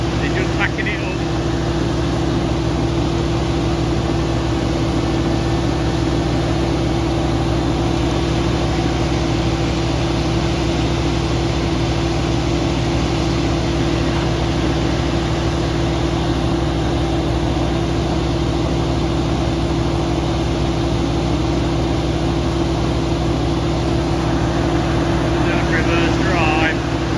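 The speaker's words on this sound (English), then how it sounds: "this is what you call a chipper" A wood chipper runs on a farm, a loud, steady mechanical roar with a constant engine drone that fills the whole stretch without letup.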